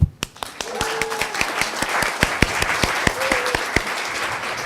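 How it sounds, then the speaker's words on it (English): Audience applause at the close of a summer prep talk, a steady wash of hand claps with sharper individual claps standing out near the front, continuous through the stretch. "First applause."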